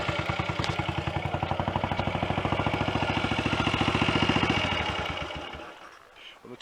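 A Royal Enfield 250 GT single-cylinder motorcycle engine idles close by after a hot start, a rapid, even thumping tick-over that gradually quickens before fading and dying away near the end.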